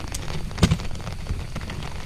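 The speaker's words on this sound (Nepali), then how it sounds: "पानी पऱ्यो दाजु।" Rain falls during a hike on a forest trail in Shivapuri Nagarjuna National Park, a steady patter of drops striking nearby surfaces, with a couple of sharper close taps and hiss throughout.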